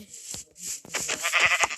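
Sheep bleat close by in short overlapping calls, one rising into a longer quavering bleat near the end.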